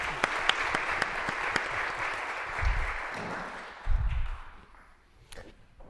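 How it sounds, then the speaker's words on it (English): An audience claps together to welcome three panelists at a Jesuit talk. The applause comes loud at first, then thins out and tapers off toward the end. "So join me with a round of applause to welcome our 3 panelists, John Pauls, Father Sayo Pil, and Father Pau"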